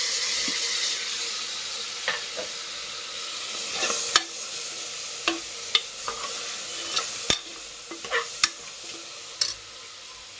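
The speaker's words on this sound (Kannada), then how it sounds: "ಟೊಮೊಟೊ ಸ್ವಲ್ಪ ಫ್ರೈ ಆಗಲಿ" Tomatoes with spice powders for vegetable pulao fry in oil in a pan, with steady sizzling under repeated scraping and stirring taps of a spoon against the pan.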